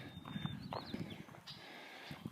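Horse hooves clip-clop at a slow walk nearby, with soft snorts and faint outdoor ambience around them.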